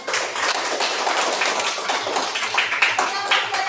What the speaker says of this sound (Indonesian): Sekarang tepuk tangan untuk kelompok 1.